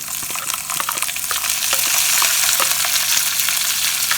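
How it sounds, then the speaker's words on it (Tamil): Ginger, garlic and green chilies frying in hot oil for a Tamil potato masala, a loud, continuous close-up sizzle with frequent crackles and pops, plus occasional scraping from stirring in the pan. "இஞ்சி பூண்டு இந்த எண்ணெயில் நல்லா வதங்கி வரணும்"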